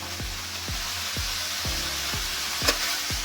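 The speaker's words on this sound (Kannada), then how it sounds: "ಅದು ಉರಿತಾ ಆವಿಗೆ ಚೆನ್ನಾಗಿ ಫ್ರೈ ಆಗುತ್ತೆ" Spiced pork frying in a pan for a Karnataka-style pork fry with chilli powder and garam masala, a continuous sizzle punctuated by regular low thumps roughly every half second and one brief sharp tick near the end.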